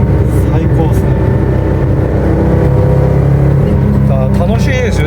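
A Porsche 911 Narrow sports car engine drones loudly and closely as it accelerates, its pitch climbing partway through, while people talk over it inside the car.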